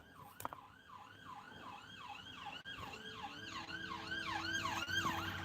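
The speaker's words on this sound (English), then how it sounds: "Ambulance." An ambulance siren wails in a steady rising-and-falling cycle, growing louder over several seconds as it draws nearer, with no voices present.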